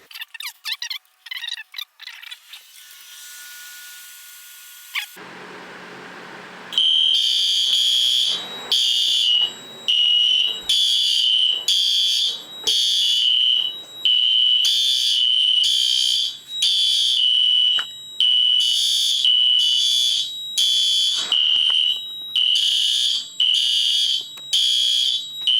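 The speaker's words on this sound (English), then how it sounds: "The fire in zone 2 alarm." A fire alarm system test sets off a loud pulsing electronic alarm tone in repeated bursts with short gaps, preceded by clicks and handling noise and a brief low hum before it starts.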